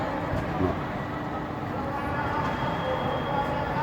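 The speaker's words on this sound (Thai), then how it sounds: "นี่ก็รถไฟสองคันนะพี่น้อง" A continuous low rumble of trains at a Lao-China Railway station, with steady mechanical drone and a faint voice underneath.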